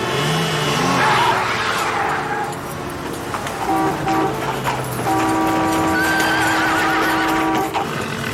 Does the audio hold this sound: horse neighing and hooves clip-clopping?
yes